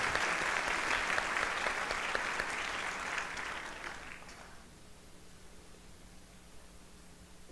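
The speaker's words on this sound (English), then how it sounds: "Yes, applause for the band." Dense applause for a high school band at an achievement awards ceremony, loud and sustained at first, then fading over a few seconds into quiet room tone.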